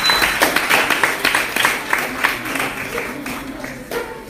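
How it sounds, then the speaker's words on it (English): A rousing round of applause from the audience at a division spelling bee contest, brisk sharp claps from many hands that are loud at first and gradually thin out and fade. "Can you give her a rousing round of applause,"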